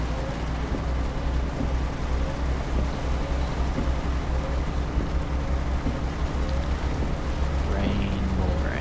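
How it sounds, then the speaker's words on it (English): Steady rain in the truck-driving game Euro Truck Simulator 2, a continuous dense hiss of falling drops over a low rumble that runs through the whole stretch without letting up. "Rain, more rain, rain."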